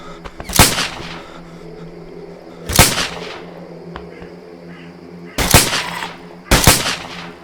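Gunshots fired in the Survive The Nights survival video game: four sharp, loud reports spaced irregularly, two seconds or more apart, each with a short decay over a low steady background hum.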